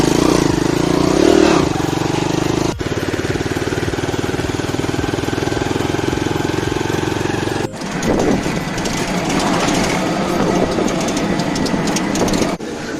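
A water bike engine drones steadily at close range while riding on the sea off Cox's Bazar beach. The engine hum runs continuously, with a couple of abrupt bumps or cuts along the way.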